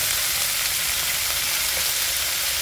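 Razor clams coated in persillade sizzle and crackle steadily in a hot frying pan, a loud, close, continuous fry with no voices.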